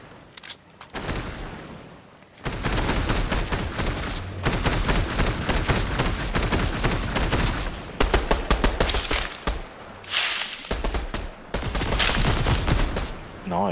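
Rapid gunfire in a shooter video game, loud dense bursts of shots in long sustained volleys with brief breaks, voices talking intermittently underneath.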